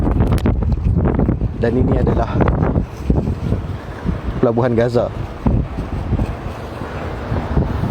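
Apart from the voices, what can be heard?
strong wind on a rooftop in Gaza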